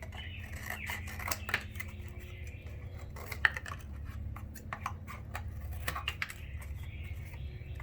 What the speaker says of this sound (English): I'm just going to cut off this bottom part of the box